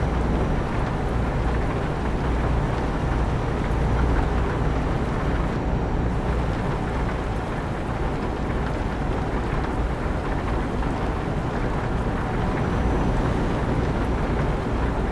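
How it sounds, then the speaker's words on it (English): Steady rain in the truck-driving game Euro Truck Simulator 2, a dense continuous hiss and patter heard over low engine rumble, constant and unbroken throughout with no talk. "And it's raining."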